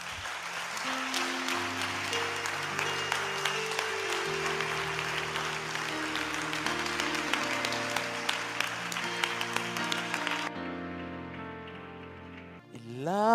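A church congregation claps steadily for about ten seconds over sustained organ or keyboard chords, then the applause stops abruptly and the music continues alone.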